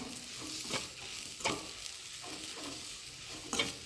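A spoon stirs a spicy masala mixture in a pan, quiet scraping strokes recurring every second or so over a faint low sizzle, with no one talking.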